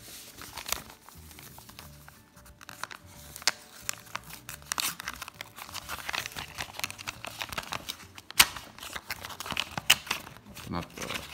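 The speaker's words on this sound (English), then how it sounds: "Open up the envelope here." Paper envelope torn open and crinkled at close range, with bursts of crisp ripping and rustling spread through the whole stretch and occasional sharper snaps.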